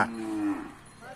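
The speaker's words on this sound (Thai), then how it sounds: "วัวสมบูรณ์ดีแล้ว กีบงามดีด้วยทั้งคู่" A single short, low moo from a cow at a small rural northern Thai native cattle market, close and clear for about half a second before fading into quiet background.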